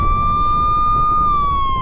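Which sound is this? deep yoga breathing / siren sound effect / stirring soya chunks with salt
siren sound effect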